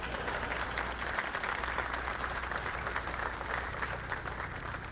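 A Texas crowd gives a steady, dense round of applause at a political rally, the clapping sustained and even throughout with no one speaking over it.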